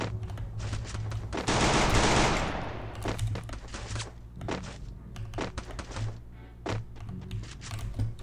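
Rapid bursts of automatic gunfire and sharp weapon shots from a shooting video game ring out up close, with a dense sustained volley early on followed by scattered short bursts and single cracks.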